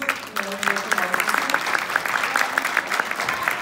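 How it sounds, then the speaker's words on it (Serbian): An audience claps at an award ceremony for a magazine prize, a dense, even round of applause lasting throughout, with a voice speaking over the first moment. "hvala svima na aplauzu"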